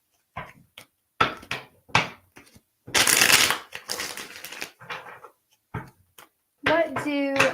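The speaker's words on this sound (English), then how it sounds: "Really wanting me to shuffle, so hold up." Tarot cards for a reading are shuffled in bursts of crisp riffling and rustling, close and loud, separated by brief pauses, with a voice near the end.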